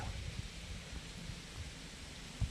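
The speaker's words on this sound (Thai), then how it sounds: "ฟ้าร้องมาแล้วครับผม ทางนู้น" Distant thunder from a storm over an outdoor spot in the countryside rolls as a low, faint rumble, swelling briefly near the end.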